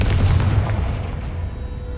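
A Confringo spell explosion in Hogwarts Legacy lands as one loud, close boom with a deep rumbling body that decays smoothly over about two seconds.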